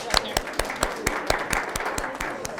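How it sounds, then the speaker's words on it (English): Scattered audience clapping at a superintendent's parent forum in a school setting, a handful of separate claps spread over a couple of seconds, fairly faint and thin, with talk mixed in. "Great, let's give them a round of applause"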